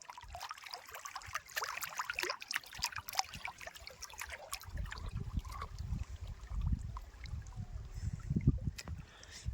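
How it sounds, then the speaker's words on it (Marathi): Small waves lap at the edge of a village pond on a hot summer day, a steady soft splashing and trickling up close with low rolling washes growing stronger in the second half; no talking. "हा तुम्ही लाटाचा आवाज बघितला मित्रांनो."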